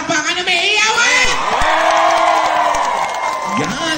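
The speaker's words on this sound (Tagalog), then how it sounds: "Palakpakan na may hiyawan!" A studio audience claps and cheers together, a loud, dense burst of applause mixed with shouts and whoops, an announcer's voice riding over the crowd noise.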